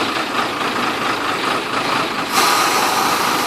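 A big goods truck idles at a factory yard with a steady, broadband engine rumble that grows slightly louder partway through, close and continuous, with no voices.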